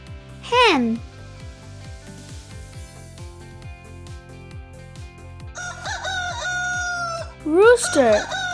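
A rooster crows loudly near the start and again at the end, over steady upbeat music, with a voice speaking briefly in between.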